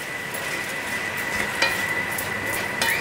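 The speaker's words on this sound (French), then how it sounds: "pareil, je vais remuer." Spoon stirring a pot of coconut milk curry on the stove, a steady close bubbling sizzle with a few light scrapes and clinks against the pot.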